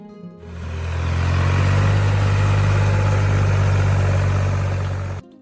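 A Ford 3000 tractor engine idles steadily close by, a deep, even low rumble that holds constant for about five seconds before cutting off.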